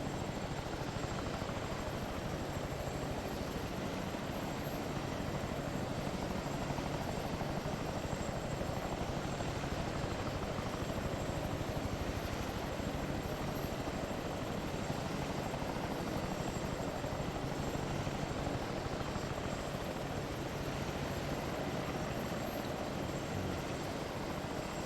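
A military helicopter engine in the game ARMA 3 winding down, a steady loud rotor and turbine drone that fills the whole stretch without letting up.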